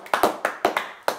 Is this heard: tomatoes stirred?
no